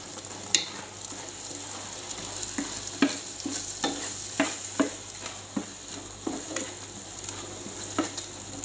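Spaghetti sauce for Filipino-style spaghetti stirred in a pan, a steady low sizzle broken by repeated scraping strokes of the spoon at an irregular, unhurried rhythm, close and moderately loud.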